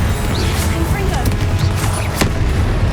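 Confringo fire spell blasting in the Hogwarts Legacy game, a sharp explosive crack near 2.2 s among several smaller booming impacts over a dense, steady combat din.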